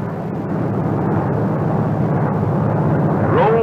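The propeller engine of a Brewster SB2A Buccaneer dive bomber in a dive with dive flaps open, a loud continuous roar with a rising whine near the end.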